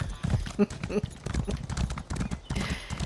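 Horses being ridden across the country in a video game produce steady clip-clopping hoofbeats. The hoofbeats run under lively talk from players throughout.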